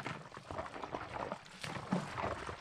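A plunger pumps water in a stream, making quiet irregular squelching and sucking gulps with soft splashes, faint and close, recorded as a sound effect.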